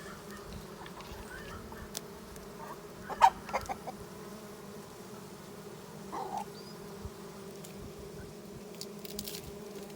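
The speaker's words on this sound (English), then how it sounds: "chickens are trying to eat my pollen frame" Chickens clucking near an open beehive during a colony inspection, with a few faint close clucks and pecks over a soft, constant hum of bees buzzing outdoors.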